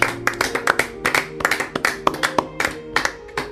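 A church congregation claps in praise of the Lord at an international family retreat, with irregular bursts of hand claps and taps in a loose rhythm, close and fairly loud, with no talking.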